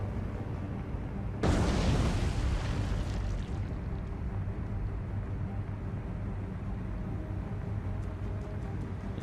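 A torpedo strikes a small British tanker in the naval game War on the Sea, giving one sudden loud blast that decays into a long rumbling roar over a steady low engine drone.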